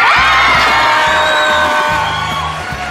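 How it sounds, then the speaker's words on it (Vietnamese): Loud crowd at a street performance cheers and whoops in a dense, sustained roar that fades slightly at the end. "mời vỗ tay"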